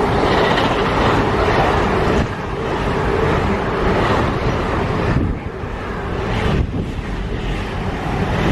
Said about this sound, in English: Nice to get a freight here at Rugeley.